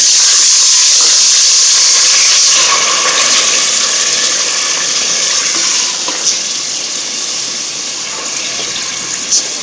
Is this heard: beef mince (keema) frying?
yes